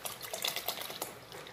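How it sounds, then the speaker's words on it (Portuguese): Milk is poured into a pot of rice pudding (arroz doce), giving a short, steady liquid splash and gurgle, close and moderately loud, lasting under two seconds with no talking. "Vou botar o leite."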